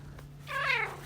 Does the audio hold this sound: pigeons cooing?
no